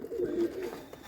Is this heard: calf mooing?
no